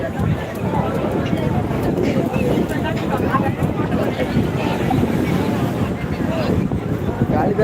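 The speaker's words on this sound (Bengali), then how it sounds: "তুলে ধরেছি সেই লেভেলের ঢেউ" Rough sea waves break and surge continuously at Digha beach, a dense roaring wash mixed with wind buffeting the microphone, with voices talking over it.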